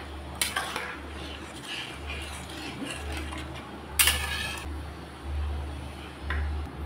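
A metal lid clatters onto a cooking pot of Bengali fish curry, the mustard pabda jhaal, giving a bright metallic clank and a few lighter rattles over a low steady stove hum.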